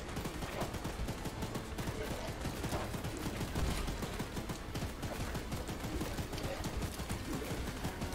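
Dense rapid gunfire from the train-horror game Choo-Choo Charles, a continuous close crackle of shots with no breaks, loud and sustained throughout.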